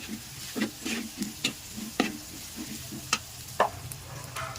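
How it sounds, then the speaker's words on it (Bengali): Cumin, turmeric and onion frying in a pan with a soft steady sizzle, broken by repeated scraping taps of a spatula stirring. "সব মশলা ভাজা ভাজা হয়ে গেছে"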